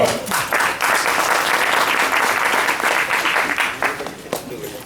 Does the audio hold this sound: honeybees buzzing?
no